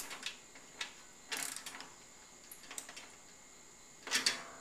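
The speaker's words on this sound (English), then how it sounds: "I've run this bolt down this hole before, so it's actually got some threads to catch on" Bolt being turned into a threaded hole in a lawn mower deck, giving sparse, faint metallic clicks and ratcheting scrapes spread over a few seconds, with one louder cluster near the end.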